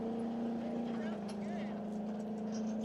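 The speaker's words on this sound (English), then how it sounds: "Not sure with the engine sounding like that if he'll actually make it to 200 or not" A land speed race car engine drones steadily at the Bonneville Salt Flats during a record run, a sustained distant tone that sounds rough and slightly off, heard alone without talk.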